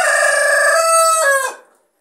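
A 7.5 kg broiler chicken crows once, a loud, close, drawn-out cock-a-doodle-doo of about a second and a half that trails off into silence.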